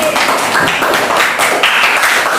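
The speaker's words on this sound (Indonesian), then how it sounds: "Tepuk tangan untuk Kaisa Sari" Classroom of primary school students at SDN 001 Penajam clapping for a classmate, a loud, close burst of brisk, rhythmic hand claps filling the room.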